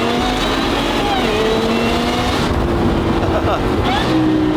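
A supercharged car engine revs and drops repeatedly with a muffled exhaust note from closed exhaust valves, climbing in pitch, while a voice talks faintly underneath.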